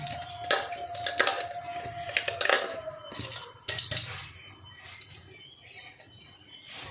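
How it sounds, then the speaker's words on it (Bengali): Ground flattened rice (chira) being shaken through a metal sieve, giving light irregular scraping and rattling taps at close range, fading toward the end. "এই যে আমি এই চালনিটা নিয়েছি, নিয়ে আমি যদি কোনো বড় টুকরো থেকে যায় সেই জন্য চেলে নিতে হবে এটা।"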